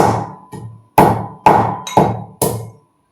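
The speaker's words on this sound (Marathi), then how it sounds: "मी खलबत्त्यामध्ये खोबरं बारीक करून घेणार आहे" Hard dried coconut is pounded in a mortar and pestle in six sharp, ringing strikes spaced roughly half a second apart, each blow decaying quickly, close and loud with no voices.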